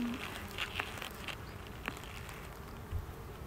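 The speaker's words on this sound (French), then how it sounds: "C'est des abeilles." Honeybees buzz steadily around the entrance board of an antique hive, a close, continuous drone with a few louder passes of individual bees.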